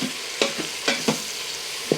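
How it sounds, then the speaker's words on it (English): Onions saute in an Instant Pot, giving a steady close sizzle broken by a few sharp scraping stirs of a spoon against the pot. "I'm going to add the onions and saute that for another couple of minutes."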